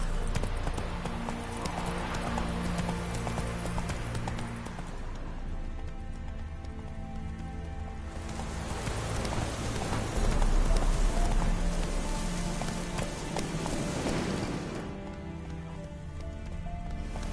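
Horse hooves galloping in the video game Witcher 3: steady rapid clip-clop of hooves on the ground with a rain-like patter and rumble, continuous and fairly loud throughout, with a voice briefly heard over it.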